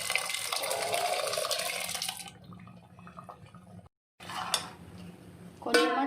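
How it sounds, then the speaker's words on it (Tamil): Water running into a pot of chana dal sambar, a steady broad rush for about two seconds before trailing off into quieter kitchen clatter and a few faint splashes. "கொஞ்சமாக தண்ணி சேர்த்தி"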